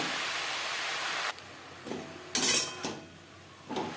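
Taro leaf paste stirred in a pan on a gas stove, a few soft scraping clinks of a utensil against the pan after a stretch of steady hiss.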